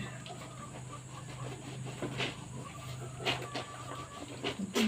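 Chickens and roosters clucking outdoors at a rural home by a well, short calls scattered over a steady low hum and background noise, with no talking.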